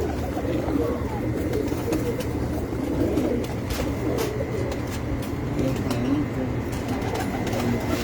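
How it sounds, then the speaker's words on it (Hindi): Pigeons on a rooftop coo in soft, repeated calls over a steady background hum of distant traffic, with occasional brief sounds mixed in. "ये भी जी बड़े मशहूर कबूतर है जी मेरे छत वाले"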